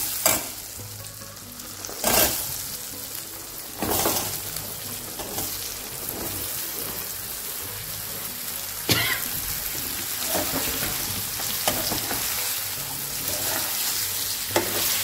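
Raw mango and spice powder sizzle and fry in a pan for a traditional kairichi bhaji, with a continuous close hiss broken by periodic scraping stir strokes and no voices.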